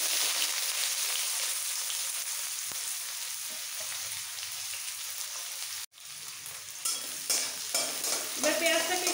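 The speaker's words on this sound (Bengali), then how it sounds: "এর মধ্যে দিয়ে দেবো একটা গোটা পেঁয়াজ কুচানো," Chopped onion dropped into hot mustard oil with cumin already tempered in the pan, a steady loud sizzle, a brief break, then renewed crackling frying and stirring scrapes, with no voices.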